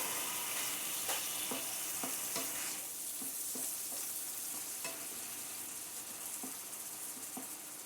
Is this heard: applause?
no